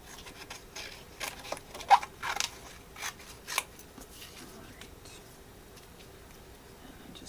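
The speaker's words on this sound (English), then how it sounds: "And then I'm going to cut it out." Scissors snip through paper around the edge of a chipboard piece in a series of soft, close cuts, with light paper rustling between snips.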